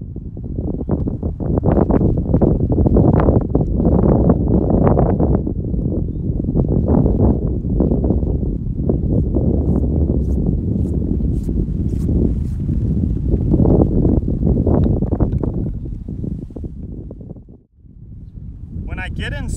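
Strong gusts sweep across an open golf course, roaring and buffeting the microphone in loud, uneven waves, briefly dropping away near the end, with speech partly buried beneath.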